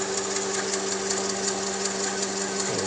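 A Shoebox Freedom 8 air compressor filling a 4500 psi tank runs steadily close by with a quiet continuous mechanical hum and rapid rhythmic chugging, a small fan blowing on it, no talking.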